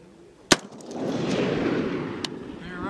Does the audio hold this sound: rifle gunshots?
yes